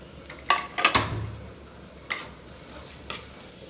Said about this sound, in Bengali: এখন আমি রসুন কুচি দিয়ে দিচ্ছি